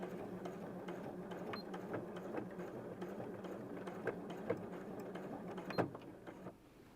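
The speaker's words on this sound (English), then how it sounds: "going to do that top stitch so it gives that extra oomph and security" A sewing machine top stitching an apron runs steadily at a quiet, even pace, with a continuous mechanical whir and rapid stitching ticks, pausing briefly near the end.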